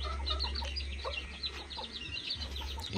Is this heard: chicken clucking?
yes